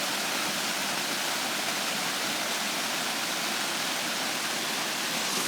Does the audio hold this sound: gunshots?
no